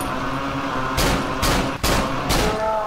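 Gunfire in the horror video game Cry of Fear: four loud, sharp shots spaced about half a second apart, each a broadband burst over a steady droning game background.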